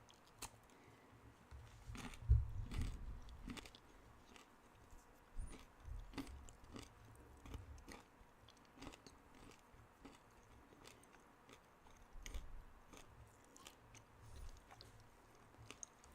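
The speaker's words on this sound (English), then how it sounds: "Can you hear me munching" Crunchy nuts and seeds being munched close to a microphone, with a scattering of sharp crackling bites and chewing clicks spread irregularly over several seconds, faint and without speech.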